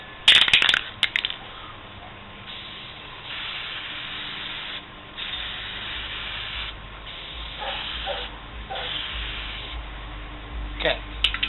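A spray paint can hisses in several long bursts with short pauses between, close by, with rattling and faint handling noises at the start and end.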